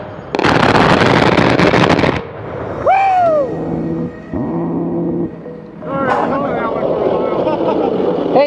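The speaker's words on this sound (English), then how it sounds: "You hear it first when it fires, and then you hear it echo from the gun in the sky." An A-10 aircraft's gun fires a long, loud, tearing burst, followed by its rolling echo from the sky. Excited voices shout and talk between the burst and the echo.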